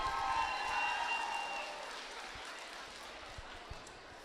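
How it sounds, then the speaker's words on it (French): A crowd applauds cadet runners after an 8 km race, a dense wash of clapping that starts strong and gradually thins out, with a few scattered thumps near the end. "On les applaudit."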